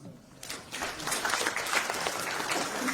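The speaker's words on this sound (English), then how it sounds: "Give that young man a clap." A press-briefing crowd breaks into applause for a young man, the clapping starting after a brief quiet and swelling quickly into a steady, dense patter of many hands.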